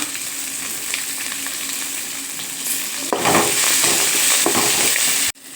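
Chopped green chilies hit hot oil in a pan, giving a constant loud sizzle that swells with stirring scrapes midway before cutting off abruptly near the end, with no voices.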